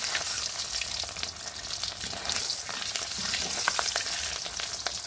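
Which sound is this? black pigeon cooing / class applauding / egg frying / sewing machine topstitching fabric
egg frying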